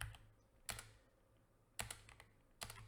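Three short bursts of rapid keystrokes on a computer keyboard, close and quiet, separated by brief pauses with no talking.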